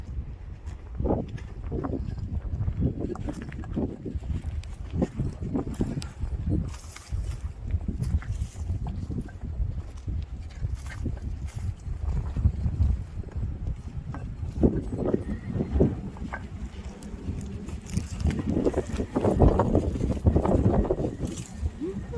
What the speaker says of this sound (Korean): 바람 많이 불죠.